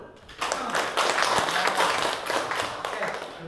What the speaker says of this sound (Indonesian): Kalian tepuk tangan dulu.